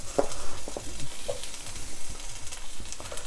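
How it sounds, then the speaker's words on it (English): Potatoes sizzle and crackle in a hot pan, with scattered clinks and scraping of stirring over the steady hiss. "it's really just as simple as frying them off"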